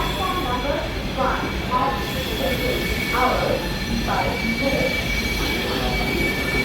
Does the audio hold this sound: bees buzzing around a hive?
no